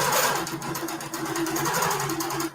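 A King Quilter II Elite longarm quilting machine stitching binding onto a quilt hums with a fast, steady mechanical chatter, running close and unbroken, with no talk.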